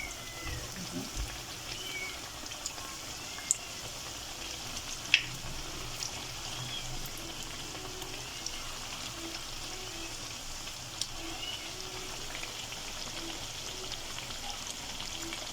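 Doughnuts fry in hot oil with a soft, steady sizzle and crackle that carries quietly throughout, broken by occasional small pops.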